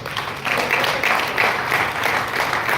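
An audience at an Astha School of Management event applauds a student walking to the stage, a short burst of steady, moderately loud clapping.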